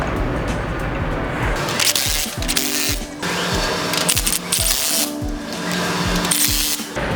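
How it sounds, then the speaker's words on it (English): Power tool tightening nuts on a poly cutting edge of a SnowFire snow plow, a loud, sustained whirring drill sound broken by short pauses and ratcheting bursts, close and without talk. "So when you tighten all your nuts,"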